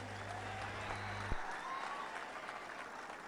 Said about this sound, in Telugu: మీరందరూ పెద్ద ఎత్తున చప్పట్లతో నివాళులు అర్పించాలి.